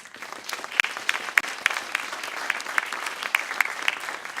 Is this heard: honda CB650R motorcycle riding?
no